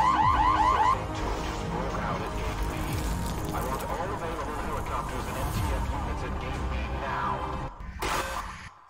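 Alarm blaring inside an SCP video game as the facility is destroyed amid explosions, a loud continuous warbling tone running nearly nine seconds with crashes and game effects mixed in, cutting off sharply near the end.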